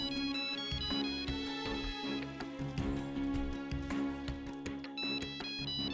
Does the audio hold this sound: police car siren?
no